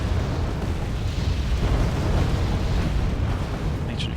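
An A-10 Thunderbolt going down in Wargame AirLand Battle, heard as a dense, continuous roar of explosion and rumble that stays loud and heavy for several seconds, with no voices over it.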